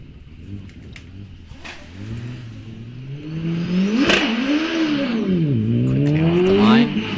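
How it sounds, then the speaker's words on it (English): A 1300cc supercharged Empire Evo 2 hillclimb car launches and accelerates, its engine note rising and falling through quick gear changes, growing louder and closer as it climbs through the revs. "venson from Wimpole, just outside of Exeter, with his 1300cc supercharged Empire Evo 2"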